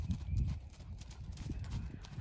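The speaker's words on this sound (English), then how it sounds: "Oh, here comes the horse running again." A horse runs past at a South Carolina state park, its hooves making a fast, uneven clip-clop over a steady outdoor background. The sound is moderately close and not very loud.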